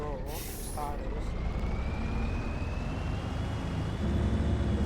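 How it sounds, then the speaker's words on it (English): A truck engine in Farming Simulator 25 roars steadily and loudly for several seconds, a continuous low rumble with a rising whine and a brief beeping at the start, with a voice faintly over it. "listen to the engine roar"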